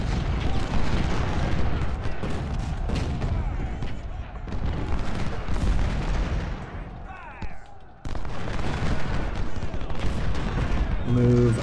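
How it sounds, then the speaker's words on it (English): Heavy artillery and volleys of gunfire boom almost without pause in the Civil War battle game Ultimate General, at Antietam, dense overlapping blasts that dip briefly near the middle before surging again. "That is so much artillery."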